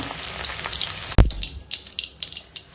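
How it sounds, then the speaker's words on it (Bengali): Cauliflower frying golden in hot oil: steady soft crackle and sizzle, interrupted by one sharp clunk of a utensil, then scattered pops. "ফুলকপিটা এরকম হালকা একদম সোনালি করে ভাজা হয়ে গেছে"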